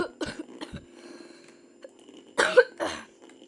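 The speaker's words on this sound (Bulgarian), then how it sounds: "Съжалявам, че така кашлям, ама съм леко настинал." A man with a slight cold coughs several times up close, in two short clusters of harsh bursts with brief quiet gaps between them.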